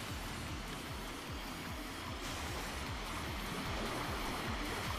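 Video-game waterfalls in the futuristic racer Fast Racing Neo on Wii U pour as a constant rushing roar, layered with a pulsing low engine-like drone throughout.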